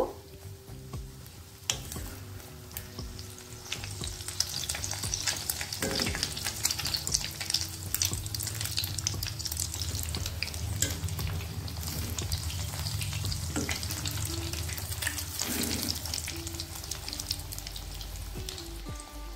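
Cauliflower and egg fry in a pan over a low gas flame, a continuous soft sizzle broken by occasional clatters and scrapes as pieces are turned, with no one speaking.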